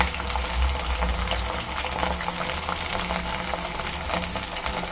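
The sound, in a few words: paneer pieces frying in oil on medium heat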